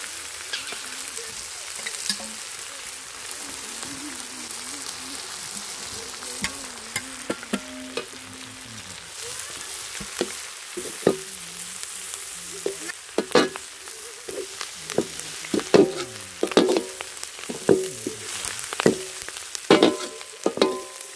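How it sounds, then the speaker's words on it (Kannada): Drumstick leaves and boiled fresh beans fry in a pan with a steady hiss. Stirring clatters and scrapes grow busier and louder toward the end. "ನುಗ್ಗೆ ಸೊಪ್ಪು ಚೆನ್ನಾಗಿ ಫ್ರೈ ಮಾಡ್ಕೊಳ್ಳಿ"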